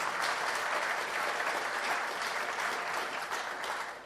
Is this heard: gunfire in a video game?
no